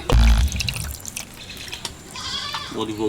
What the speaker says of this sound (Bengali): চিংড়ি মাছ কাটা হয়ে গেছে পরিষ্কার করে ধুয়ে নিচ্ছি